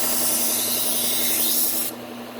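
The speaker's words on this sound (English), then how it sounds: "these are sharpening up really easy" A Wusthof kitchen knife is drawn along a sharpening surface in a close, continuous rasping stroke that holds for about two seconds before cutting off, leaving a softer tail.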